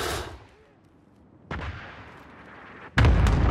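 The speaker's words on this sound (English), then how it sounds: "Ally cluster strike inbound." Cluster strike explosions in Call of Duty: Modern Warfare on the Atlas map, three sharp, loud blasts spaced about a second and a half apart, each trailing off into a rumbling tail, the last the heaviest.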